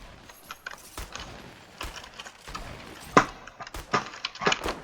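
Old Season 1 Fortnite material harvesting: a few sharp, woody chopping hits land irregularly over a low, busy game background, moderately quiet.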